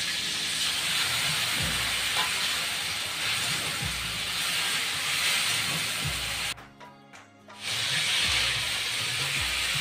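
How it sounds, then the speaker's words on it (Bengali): Potatoes and yardlong beans fry in a pan with turmeric and spices, a steady close sizzling hiss that runs throughout and drops out briefly for about a second near the end before returning. "এখন আমি মশলা দিয়ে কষিয়ে নেব।"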